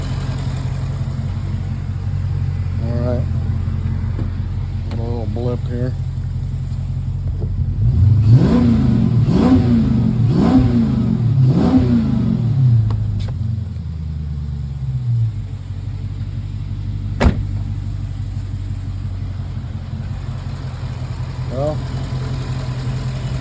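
A Dodge Challenger engine, just fitted with a new water pump, idles and then revs in several quick rising-and-falling blips before settling back to a low rumble, with a person talking around the revs.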